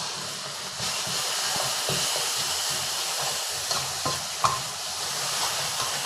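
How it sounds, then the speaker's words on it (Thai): Chili, garlic and beef stir-fried in hot oil in a pan, a steady close hiss and sizzle with scattered scraping stirs and a few sharp clicks throughout. "คั่วให้หอมก่อนครับ พริกกระเทียมหอมตามด้วยเนื้อครับ"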